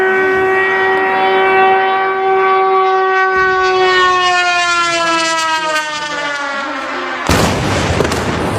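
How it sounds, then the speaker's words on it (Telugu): Air raid sirens wailing during a Russian attack on Ukraine, a loud sustained rising then falling tone with many harmonics, ending in a burst of broadband noise near the close. "ఆ సైరన్స్ కి సంబంధించి."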